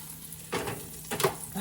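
Breakfast food frying in a pan in a home kitchen early in the morning, with two brief surges of sizzling over a quieter background hiss.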